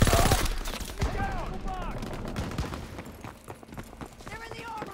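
Infantry gunfire in the WW2 shooter Call of Duty WW2, with bursts of rifle and automatic fire, and sharp cracks that keep going over busy battle noise. Shouted voices come through now and then.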